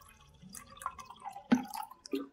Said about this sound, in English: So here I am going to add more quantity of water.